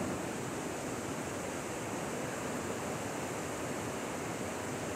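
Steady broadband rush of a river flowing after heavy overnight rain, a constant near wash of water with no breaks and no voices.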